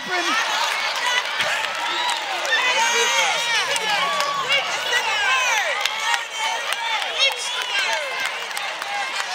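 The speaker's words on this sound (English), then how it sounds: "Not look at them standing up, waving their hand, clapping." Church congregation during a sermon, a dense crowd clapping and cheering with many overlapping voices, loud and continuous throughout.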